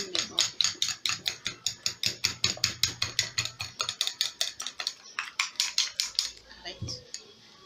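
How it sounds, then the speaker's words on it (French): A homemade anti-wrinkle, anti-acne face mask mixture is stirred in a bowl, making fast, steady, rhythmic clicking scrapes of a utensil against the bowl that slow near the end, with no voices. "Prenez vraiment du temps de faire un bon mélange"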